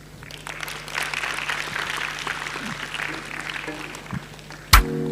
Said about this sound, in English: A big hand clap for him once again.